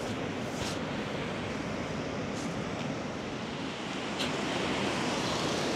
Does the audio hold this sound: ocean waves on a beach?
yes